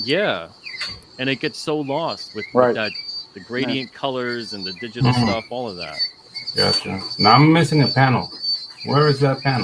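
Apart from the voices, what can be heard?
cicadas chirping outdoors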